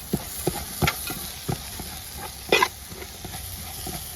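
Onions with curry leaves and coriander leaves are sautéed for tapioca biriyani, a soft sizzle broken by a few sharp scrapes and clanks of the spoon against the pan, close and with no talk.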